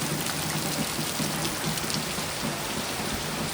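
Steady rain pours down in a continuous, even hiss with dense patter on surfaces, loud and close, with no voices over it.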